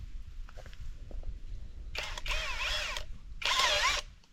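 A power drill bores a pilot hole for a self-tapping screw while building a small forest cabin, two loud whirring bursts of drilling separated by a brief pause, close by with no talk.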